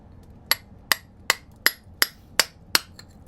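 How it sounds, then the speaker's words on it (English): Seven sharp metallic hammer strikes on a chisel cutting into a concrete foundation crack, evenly spaced about every third of a second, close and ringing against a quiet background. "So I've just got a hammer and a chisel."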